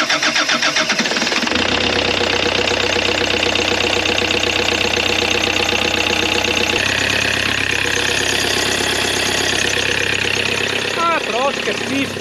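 A Toyota RAV4 with a D4D diesel engine and a loss-of-power fault cranks and catches in cold weather, then settles into a loud, steady, knocking diesel idle that runs on to the end, with brief voices over it near the close.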